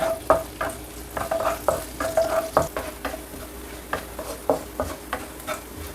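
Garlic stir-fried in oil in a pan, a soft continuous sizzle broken by repeated scraping strokes of a spatula at an uneven rhythm, close and moderately quiet, no speech.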